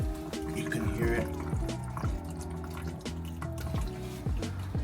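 Water running and draining through the overflow of a bathtub in a 1960s bathroom remodel, a steady close gurgling flow with bubbling and trickling, continuous and fairly loud with no voices.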